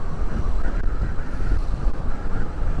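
Wind buffeting the microphone while riding a motorcycle at about 20 to 30 on a cold ride from Manila toward Baguio: a loud, steady, rumbling roar with no voices.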